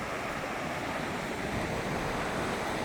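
Ocean surf rolls onto the beach at Atlantic City, a loud, continuous wash of breaking waves with some wind buffeting the microphone.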